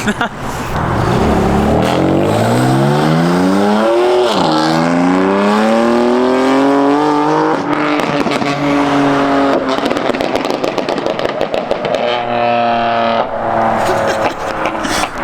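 A stage 2, full bolt-on BMW M4 accelerates hard. The engine is loud and close, rising in pitch through several gear changes with a brief dip at each upshift before it climbs again, and a voice speaks faintly underneath.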